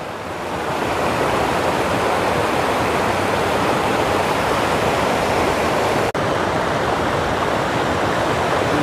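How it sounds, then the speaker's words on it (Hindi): A waterfall on the Shankh river near Basantpur in Simdega, Jharkhand, roars as a dense, constant rush of falling water, loud and close, unbroken except for a momentary dip. "ये है वाटरफॉल, नदी, शंख नदी का।"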